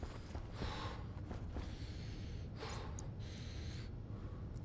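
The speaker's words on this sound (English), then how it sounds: "The annoying breathing." A player character in the Stationeers video game breathes heavily, with a run of loud, rough gasping inhales and exhales repeating steadily and close up, with no talk.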